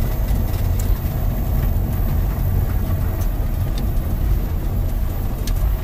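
Electric Mercedes W202 converted with a Mitsubishi i-MiEV drive unit, rear motor and reduction gear, driving with a steady broadband road and motor rumble, continuous and fairly loud, no talk.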